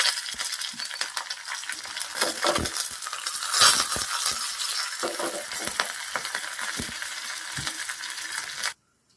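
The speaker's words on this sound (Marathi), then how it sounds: "आता यामध्ये मी मोहरी टाकणार आहे. मोहरी छान तडतडली की आपण यामध्ये जिरे टाकून घेऊया आणि कढीपत्ता टाकून घेऊया" Mustard seeds, cumin and curry leaves sizzle and crackle in hot oil for a tempering, making a dense close spitting hiss with sharp popping seeds for about nine seconds before it cuts off abruptly.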